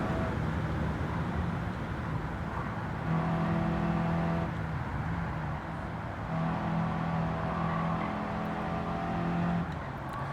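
A small hybrid hatchback's engine revs steadily in Gran Turismo 7, a loud, continuous droning tone that steps up in pitch in stages and holds, with no talking over it.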